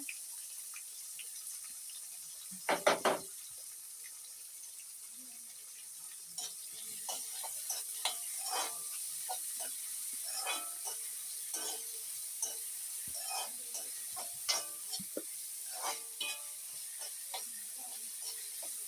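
Ginger and green chillies sauté in a hot pan with a steady hiss of frying and scattered small pops, plus a brief louder utensil clatter near the start.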